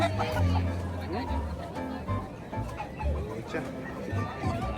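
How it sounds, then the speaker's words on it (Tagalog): Chickens clucking at a poultry show, short clucks and fowl calls scattered amid a busy hall, with people talking and laughing nearby over the birds. "ang gandang manok"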